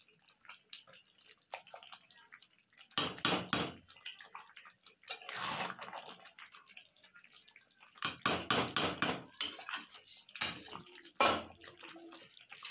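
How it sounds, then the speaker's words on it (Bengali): A spatula stirs chicken chaap with yogurt in a pan, giving bursts of wet scraping and sloshing in irregular clusters, close and moderately loud, with quiet gaps between. "তো একটু প্রথম দিকটা একটু সমানে খুন্তিটা একটু নেড়ে নিতে হবে।"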